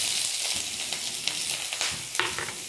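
Onion, curry leaves and coriander sizzle steadily in a hot pan of oil, a continuous close frying hiss broken by a few soft scrapes of stirring.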